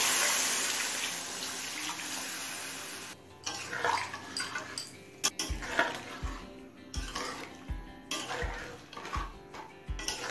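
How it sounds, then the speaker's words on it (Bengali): Hot water is poured from a kettle or jug into a pan of simmering Bengali shol fish curry with fried cauliflower, giving a steady splashing pour that breaks into several louder gulps and sloshes near the end. "এখন দিয়ে দেবো প্রয়োজন মতো গরম জল।"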